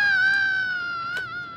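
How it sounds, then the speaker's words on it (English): A recorded scream, played back as a prank, holds a single sustained, tonal, wavering high wail that stays loud and close for over a second, with a brief sharp noise near the end. "enjoy the dulcet sounds of me screaming in your ear"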